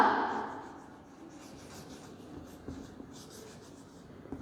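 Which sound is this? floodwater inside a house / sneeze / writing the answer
writing the answer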